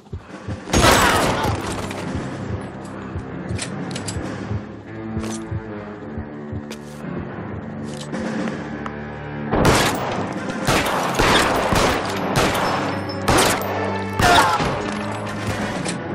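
Gunfire in the video game L.A. Noire: loud volleys of shots and booming impacts that erupt at the start and again in the second half, mixed with game music and occasional voices.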